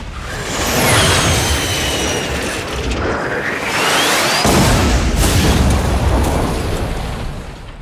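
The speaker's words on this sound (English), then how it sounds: "The backlit explosion helps a lot." A loud roaring film-set explosion in the California mountains swells and crackles, with whistling debris-like streaks, then a second heavy burst rumbles and slowly fades.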